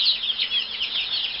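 Chickens cluck and chirp at a petting zoo beside a restaurant, a continuous busy chorus of fowl calls at moderate loudness with no voices over it.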